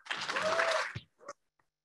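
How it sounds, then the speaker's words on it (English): Audience applause at a closing session of a professional conference, a dense burst of clapping lasting about a second before it cuts off abruptly, followed by a few faint scattered claps. "can we do one more round of applause for Jackie?"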